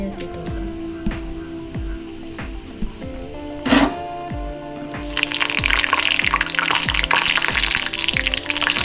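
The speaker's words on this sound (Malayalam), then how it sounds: "അപ്പോൾ കായം ഈ എണ്ണയിൽ ഇട്ടിട്ട് കൊടുക്കാം" A lump of solid asafoetida dropped into hot oil with curry leaves for mango pickle, first a low simmering bubble, then a burst of loud, steady, close sizzling that swells and holds.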